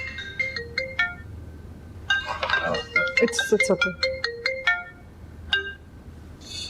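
A phone ringtone plays as a repeated electronic melody of short bright tones across most of the clip, fairly loud and close, with someone speaking briefly over it.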